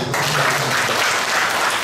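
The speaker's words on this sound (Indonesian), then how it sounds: "Kita beri tepuk tangan untuk penyertaan." A church congregation at Mass claps steadily and continuously, a dense wash of applause filling the room with no pauses.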